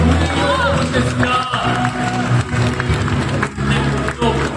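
Applause and cheering from a crowd at a Bandai Gunpla Builders World Cup award ceremony at COEX in Seoul, sustained and loud, with a host speaking over it.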